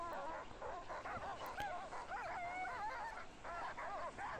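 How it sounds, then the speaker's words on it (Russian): Malamute sled dogs wait at the start line of the Seven Hills race, a pack whining, yipping and yelping continuously at a middle distance in a steady outdoor hubbub. "Все маламуты ругаются. Очень хотят бежать."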